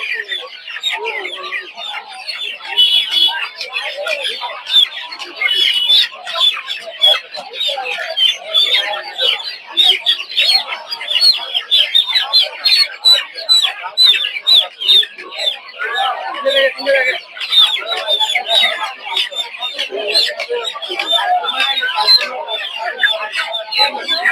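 Chickens clucking at a busy poultry market in Putia, Narsingdi, many birds close by in rapid overlapping clucks and squawks that go on throughout, with people talking underneath.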